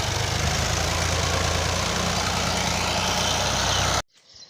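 A tractor engine idles loudly and steadily in a field in rural Pakistan, a constant rough low chugging that cuts off abruptly near the end.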